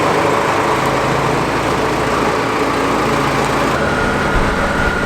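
A telehandler engine runs close and loud, a steady droning rumble with a buzzy upper tone holding constant throughout, with wind noise mixed in outdoors on a farm.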